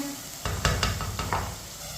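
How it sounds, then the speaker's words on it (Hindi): Salt is stirred into chickpea pulao in a pot with a handful of quick scraping strokes, loud and close, with a faint sizzle beneath and no one talking. "नमक डाल के मैंने मिक्स कर लिया।"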